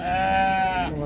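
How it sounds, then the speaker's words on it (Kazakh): A sheep at a livestock market in Shymkent gives one loud, close bleat that holds steady for about a second before it cuts off. "Елу бес мыңнан sog'liq qo'ylar."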